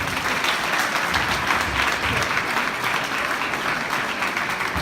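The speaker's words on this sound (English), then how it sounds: "give a nice, beautiful round of applause" A large crowd at a school's 77th annual dinner applauds, with dense, steady clapping that fills the room evenly for several seconds, loud and close, with no talk over it.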